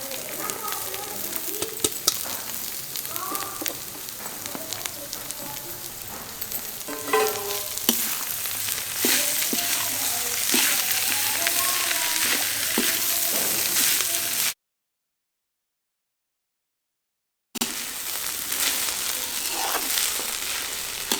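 Grated kitchen-garden radish bhurji fries and sizzles in a pan in a village kitchen while a utensil stirs and scrapes through it, with a voice speaking at times. The sound cuts to silence for about three seconds before the frying resumes.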